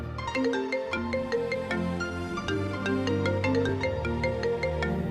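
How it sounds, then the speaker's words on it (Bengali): A phone ringtone plays steadily at night, a repeating melodic tune with a bright, clear tone and an even rhythm that goes on with no one talking. "এত রাতে কে ফোন দিল তোমাকে?"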